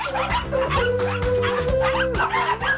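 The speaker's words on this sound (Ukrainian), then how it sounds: "Які красені і які галасливі." Caged dogs at a Japanese pet rental shop bark and yip close by in quick, overlapping bursts, with some higher whimpering yelps mixed in.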